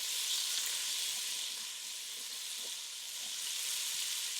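Tasso ham sizzles steadily in a hot pot for jambalaya, a continuous close hiss of frying fat with faint crackles and no voices.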